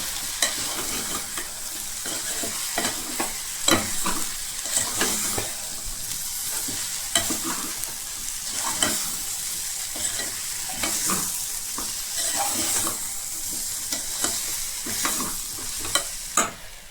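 Vegetables with turmeric and a little chili powder are stirred in a pan for sweet corn veg pulao, a repeated scraping and clattering rhythm over a low continuous sizzle, close and steady.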